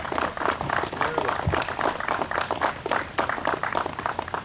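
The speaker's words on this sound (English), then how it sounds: "If you want to applaud, go ahead," An audience at a Patriot Day prayer ceremony applauds with a steady patter of many hands clapping, close and fairly loud, continuing evenly without voices.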